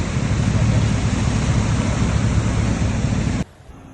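Heavy storm rain pours over flooded streets in Denver, a dense, loud, unbroken roaring wash that cuts off abruptly near the end, leaving a much quieter background.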